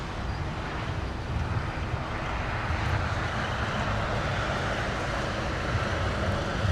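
Jet airliner departing from the south side runways at LAX, a broad steady roar with heavy low rumble and wind buffeting, sustained and fairly distant throughout, no talking.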